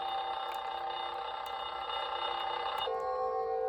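A Timex Nature Sounds alarm clock radio playing its cathedral bell alarm, a sustained electronic bell peal with layered ringing tones that holds steady, then shifts to a new pitch near the end, loud and close with no talking.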